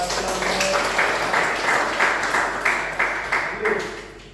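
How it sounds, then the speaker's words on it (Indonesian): A class in an automotive lesson claps together, a steady wash of many hands at moderate loudness that carries on for several seconds indoors, with some voices under it. "Oke, luar biasa, beri tepuk tangan buat"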